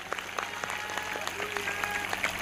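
Congregation clapping at a church service, a steady wash of many hands with sharper individual claps scattered through, fairly close and moderately loud, with a faint voice briefly over it.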